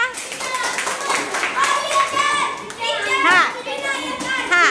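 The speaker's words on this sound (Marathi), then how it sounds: "टाळ्या वाजवा, टाळ्या" Children at a village school's Saturday celebration clap together amid lively chatter and excited young voices, the claps blending into a busy, continuous crowd noise for the whole stretch.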